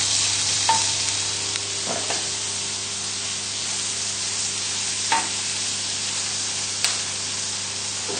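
Chicken livers sizzle and spit steadily in a heavy-bottomed pan, a continuous close fry with a few sharper pops and crackles along the way, no voices present.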